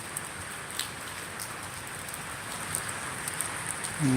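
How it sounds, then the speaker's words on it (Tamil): Northeast monsoon rain falls steadily through the night, a soft continuous hiss with scattered sharper drops, fairly quiet and even, with no voices. "மழை தான் வர வர நேரம் செல்ல செல்ல அதிகமாகுது"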